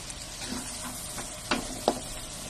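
Star margarine and dairy cream melting in a pan with garlic, a soft steady sizzle up close with two brief sharper crackles near the end.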